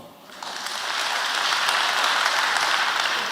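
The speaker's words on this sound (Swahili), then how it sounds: "Ni mwamuhorera makofi" Congregation at a live Kikuyu church service breaking into applause, a dense sustained wash of many hands clapping that swells after the first second and keeps going steadily.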